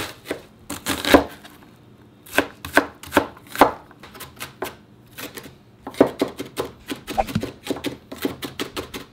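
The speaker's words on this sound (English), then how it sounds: "So now that we cut our onions," A knife chops onions on a cutting board in quick bursts of sharp, close thuds, with short pauses between the runs.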